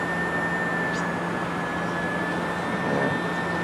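A UMX Click RC model plane flies with a steady, whining motor drone that stays loud and constant throughout, with a thin high tone running above it.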